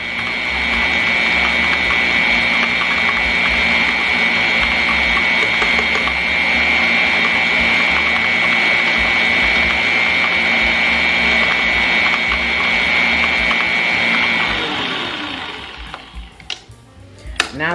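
An electric mixer whirs steadily through pound cake batter with butter and cream cheese, a loud continuous motor whine holding for about fifteen seconds before spinning down and stopping, followed by a few small clatters.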